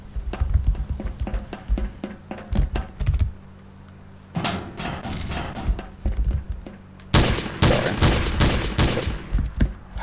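Gunfire in the shooter game iNFILTRATION 2: rapid bursts of sharp shots in three separate clusters, split by brief lulls, loud and close, with the last barrage the densest.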